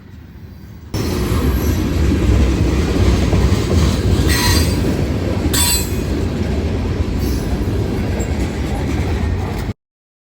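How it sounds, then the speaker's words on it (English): Freight train with a BC Rail locomotive trailing passes close by, starting abruptly as a loud sustained roar of rolling cars with squealing wheels and intermittent rail clicks, cutting off sharply near the end. "No way, I just caught a BC Rail locomotive."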